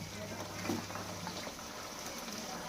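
Vegetables, including peas, cauliflower, beans, carrot and potato, fry in a pan with a steady hissing sizzle and bubbling, close and even throughout.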